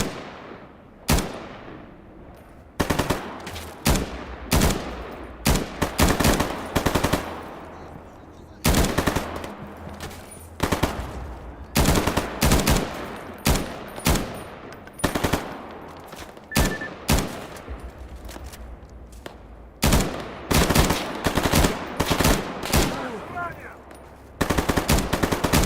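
Rapid automatic gunfire from a weapon in the video game STALKER GAMMA, loud close bursts and long sustained volleys with brief gaps, and a voice speaking in places.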